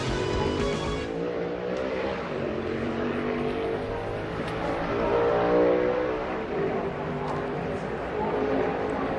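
Ty Dillon's NASCAR stock car takes to the track for a one-lap All-Star Open qualifying run, a steady loud engine roar that swells as it accelerates, under continuous commentator talk.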